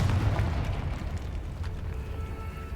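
A Confringo fire spell detonates in Hogwarts Legacy, giving a loud, rumbling blast that stays heavy and sustained for a few seconds.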